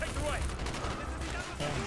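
Gunfire in Call of Duty Black Ops, Operation 40 mission on Veteran difficulty, with clustered shots and bursts under a busy game soundscape and a voice talking over it.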